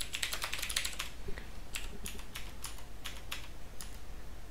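Rapid keystrokes on a computer keyboard while passenger details are entered for an IRCTC rail ticket booking, a dense burst of clicks at first, then sparser, steady taps, close and fairly quiet with no voices.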